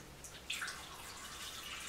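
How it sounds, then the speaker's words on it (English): Water is poured into a cooking pot to make a parsley drink, a quiet, steady trickling wash with a small splash or drip just before the midpoint, heard alone. "We can get more water in there."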